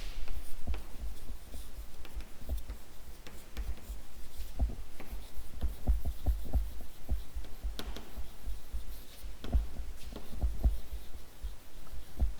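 A teacher writes answers during an English class with a string of quick scratching and tapping strokes in an uneven rhythm over a steady low hum, close and moderately loud, with no talking.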